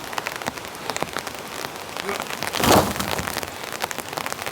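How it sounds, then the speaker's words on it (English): Steady rain patters on a cabin roof nearby, dense drops tapping continuously, with a brief louder rush of water in the middle. "Looks like the rain's back too."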